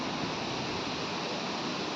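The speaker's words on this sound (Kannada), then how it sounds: "ನೀರು ಹರಿತಾ ಇದೆ." Steady rushing water flows beside the Kateel Sri Durgaparameshwari temple in the rainy season, a dense unbroken broadband wash that stays loud and close throughout with no voices.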